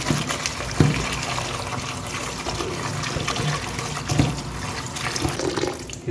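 Drumstick leaves being rinsed in water, with steady splashing and trickling close by throughout and a few louder sloshes as the leaves are swished around.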